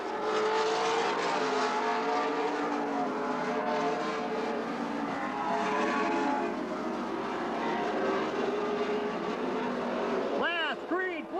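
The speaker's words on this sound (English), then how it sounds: "Last green flag lap, Kirby Kurth." Race cars circling a speedway oval during a Wisconsin Challenge Series event at Golden Sands Speedway, a loud continuous roar of multiple engines with a car passing near the end, under an announcer's voice.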